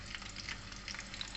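Potatoes and carrots fry in hot oil, which gives off a faint, brief crackle with small spitting pops close by.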